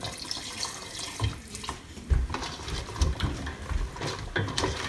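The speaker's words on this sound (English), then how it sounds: "And let's add some water." Running water pours steadily into a pan of Malvani crab curry, a continuous splashing hiss with small bubbling bursts, close by and with no talking.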